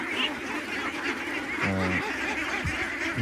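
Ducks raised on a river, some of the flock lying sick, let out a short burst of nasal quacking and honking over steady outdoor background noise, with no talk.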